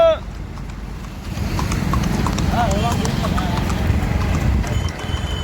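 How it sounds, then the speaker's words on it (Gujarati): A mare's hooves clip-clop at a steady walking pace close by, a rhythmic clatter over a low rumble of background noise. "અમારી ફેવરિટ ઘોડી બબુ"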